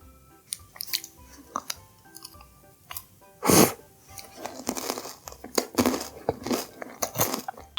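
Chewing on homemade caramel popcorn shaved ice with ice cream, shaved ice and crisp popcorn, heard as close, irregular crunchy bites and soft wet mouth sounds, with one louder burst partway through.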